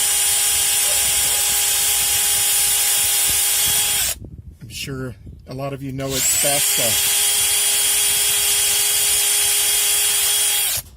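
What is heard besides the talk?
power drill pilot drilling holes in aluminum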